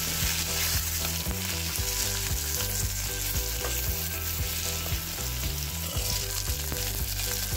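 Garlic pods and a gooseberry-sized piece of ginger fry in a pan, giving a loud, steady sizzle that runs unbroken throughout with no voices.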